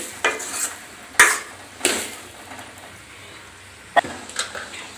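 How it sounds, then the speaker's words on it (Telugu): A spoon stirs tomatoes into hot tempering oil in a pan, giving several distinct scraping strokes at uneven intervals over a faint background sizzle. "చక్కగా కలిపేసుకోవాలి అంటే మొత్తం పట్టేటట్టు ఆయిల్ పోలేటట్టు"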